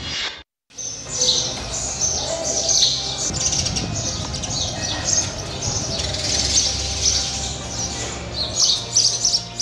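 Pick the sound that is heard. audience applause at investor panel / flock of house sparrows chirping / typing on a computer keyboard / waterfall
flock of house sparrows chirping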